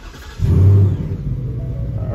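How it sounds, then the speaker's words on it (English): A car's engine cranks and catches with a loud low rumble, surging briefly before settling into a steady idle, close up and with no talk. "Now we start the car."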